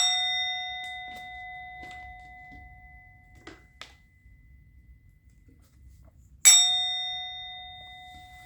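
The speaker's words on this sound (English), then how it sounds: "I'm going to ring the bell." A bell rung once near the start with a long ringing decay, a few soft taps and clicks in a quiet room, then a second bright loud strike that rings out and slowly fades.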